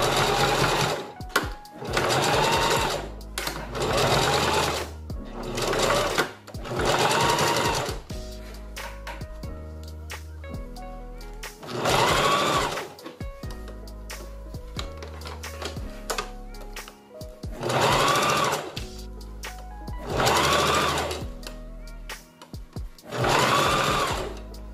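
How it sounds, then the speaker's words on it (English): Sewing machine stitching wig tracks, heard in repeated bursts of rapid whirring stitches lasting a second or two each, separated by short pauses, close up with no talking. "So I'll just start sewing."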